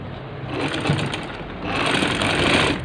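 A sewing machine runs steadily while closing up the sides of a ladies shirt, a continuous close whirring hum that grows a little louder partway through.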